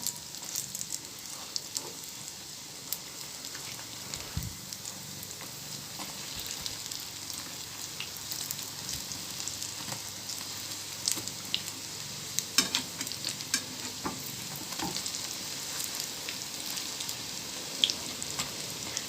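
Egg-dipped bread slices frying in a pan, a soft steady sizzle with scattered small crackles and pops, close and fairly quiet, with no talking.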